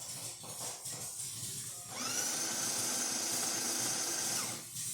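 A DeLonghi La Especialista espresso machine's built-in coffee grinder, freshly repaired, whirs into a steady high-pitched motorised grind that starts abruptly and holds for a few seconds before cutting off, preceded by faint background hiss.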